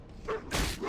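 A dog in the World of Warcraft video game gives a short, moderately loud yelp or bark amid dense game background noise.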